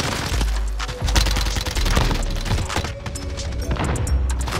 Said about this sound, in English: I'm using an Uzi.